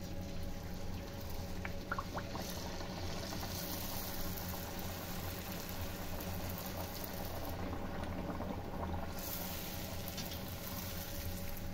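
A small piece of dough bubbles and fizzes in hot mustard oil, a steady dense seething that runs continuously and close, with a couple of faint clinks near the start, no talk.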